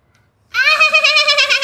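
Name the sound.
person imitating a goat bleat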